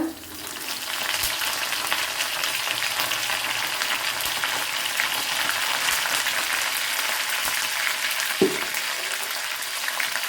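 Ginger and curry leaves fry in hot oil for a bitter gourd pickle, giving a loud, continuous crackling sizzle after a brief quiet start, with a couple of clinks from the pan.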